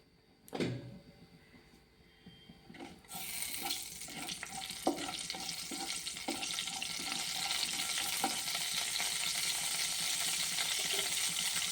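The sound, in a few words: mustard seeds frying in oil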